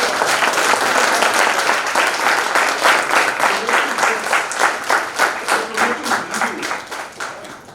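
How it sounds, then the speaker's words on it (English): An audience applauds at a talk on books and personal branding in Pune, loud sustained clapping that gradually thins into distinct individual claps toward the end, with a little talk underneath. "can we have a round of applause for Advait and for"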